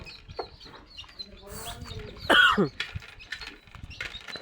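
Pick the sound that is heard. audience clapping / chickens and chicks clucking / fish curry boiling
chickens and chicks clucking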